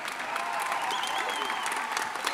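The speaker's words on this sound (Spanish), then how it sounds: "guárdense unos aplausitos para Pato Cangemi" Audience applause at a live stage show, steady and dense clapping from a large crowd throughout, fairly close and continuous with no break.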